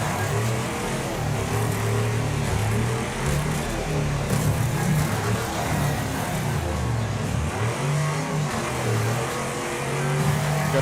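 Racing car engines in the demolition-derby video game WreckFest roar continuously and loudly, with layered revving and shifting pitch from several cars at once, filling the whole stretch with no talk.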